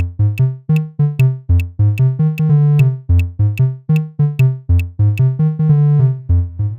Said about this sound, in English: If we simplified the line down to its rhythmic skeleton, it would sound like this.